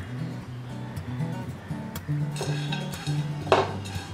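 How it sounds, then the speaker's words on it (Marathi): Fennel seeds and dry coconut roast in a pan over a low gas flame, with soft scraping and light metallic clinks from a stirring spoon, quiet and intermittent. "आता आपण घालूया बडीशोप आणि सुकं खोबरं"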